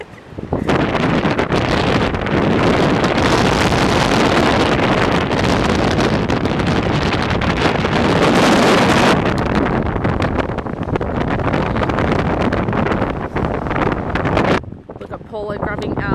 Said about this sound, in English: But it's extremely windy.